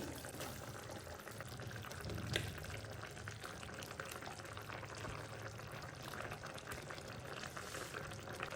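Ground masala paste going into a pot of chicken curry, a soft continuous pouring and bubbling wash that stays faint and even throughout with no talk.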